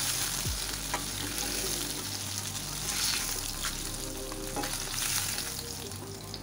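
Fish fries in a kadhai in village-style Odia cooking, giving a loud continuous sizzle and crackle close by, with a few scattered clinks and no talk.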